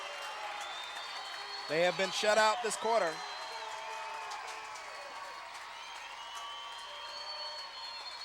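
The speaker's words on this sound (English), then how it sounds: "Mirada crowd is being exhorted to cheer." Crowd at a La Mirada high school football game cheering and applauding in the third quarter, a distant roar rising under an announcer's commentary, with a brief louder burst of crowd noise.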